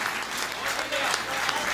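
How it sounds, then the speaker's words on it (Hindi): Audience applause at a Hindi comic poetry gathering (kavi sammelan), a steady dense clapping that fills the whole stretch, close and fairly loud with no voices over it. "तुम अपनी तालियों के शोर से आशीष दे देना"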